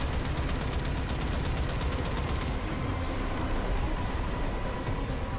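Rapid automatic gunfire from the video game Warframe, a dense sustained burst of rattling shots over the first half, then a continuous roar of game noise without talk.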